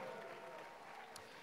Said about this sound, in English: a mighty hand clap one more time